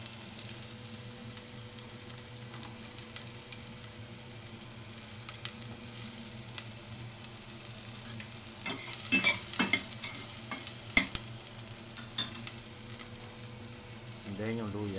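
Garlic frying in a pan during a home-cooked squid and tomato dish, a steady close sizzle with occasional stirring scrapes and clatters toward the end, no talking.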